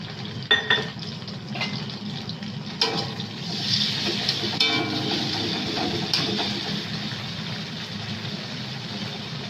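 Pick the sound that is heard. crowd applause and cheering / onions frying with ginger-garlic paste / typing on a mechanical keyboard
onions frying with ginger-garlic paste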